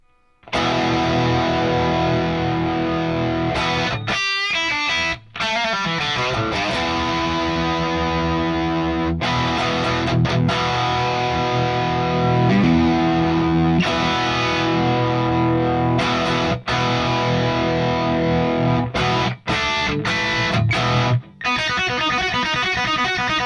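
An electric guitar played through a Fractal AM4 with heavy distortion chugs out a riff, loud and continuous with a few brief stops and restarts between phrases.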